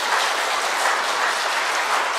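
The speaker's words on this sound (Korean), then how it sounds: "우리 하나님께 영광 올려드리는 박수" A church congregation at a special dawn prayer service breaks into dense, sustained applause to glorify God, a full steady roar of many hands with no voices over it.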